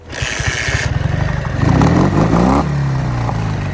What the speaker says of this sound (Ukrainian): Ви любите, як вона газує